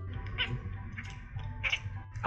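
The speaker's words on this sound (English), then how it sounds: "Because your purring sounds like this." A cat with a wheezy, raspy purr, low rumbling breaths in a rough rhythm close up, broken by a few brief meow-like vocal sounds.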